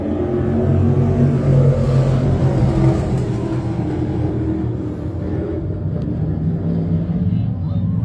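Limited sportsman race cars roaring off turn four at the green-flag start at Can Am Speedway, a loud, dense engine rumble throughout as a track announcer talks over it.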